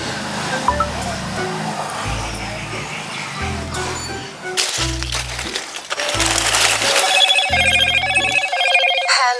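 A telephone rings over and over in an even rhythm of repeated electronic trills, steady and fairly loud against busy background noise, turning into a brighter warbling tone near the end.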